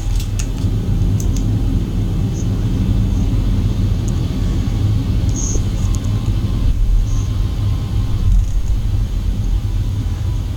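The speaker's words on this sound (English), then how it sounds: "There's one plane coming in" Airliner sound in a flight simulator, a loud continuous engine rumble and roar held steady at the start of a takeoff run, with faint clicks over it.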